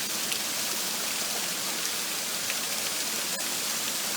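A waterfall at Pipestone National Monument makes a steady, dense rushing hiss, close and constant throughout, with a faint click partway through.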